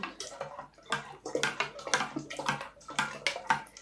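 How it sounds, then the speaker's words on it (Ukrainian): Cold well water is poured close up into a container of salted, sugared brine for pickling tomatoes, in a series of splashing, gurgling bursts that start and stop unevenly. "розмішала я сіль з цукром і долила воду"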